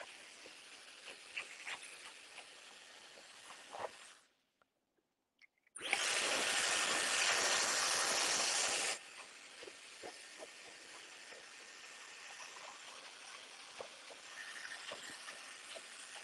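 A hair dryer blows on a man's hair during a live haircut, a loud steady whoosh for about three seconds after a brief silence, with quieter background noise before and after.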